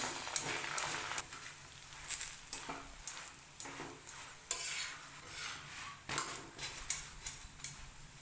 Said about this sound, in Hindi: इस साइड पे मैं घी लगाऊंगी। इस तरीके से हम फ्राई कर लेंगे।